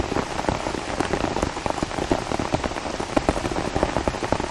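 Steady, heavy rain drums on an umbrella during a hard downpour at Lake Norman in Mooresville, North Carolina, a dense unbroken patter of close drops with frequent sharper individual hits throughout.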